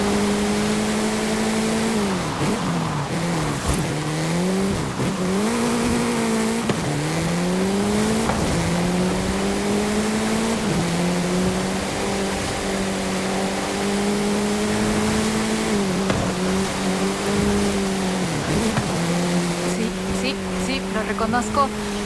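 Car engine in Forza Horizon 5 driving off road near waterfalls, a steady droning hum with rising and falling revs throughout, with a voice talking over it.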